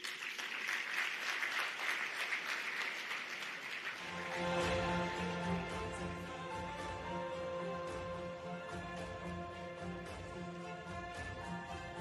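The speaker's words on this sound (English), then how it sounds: "Another round of applause, please, ladies and gentlemen" Conference audience at the Afreximbank Annual Meetings applauding, a dense burst of clapping that gives way to a steadier hall ambience with lingering claps and tonal hum, fairly faint overall.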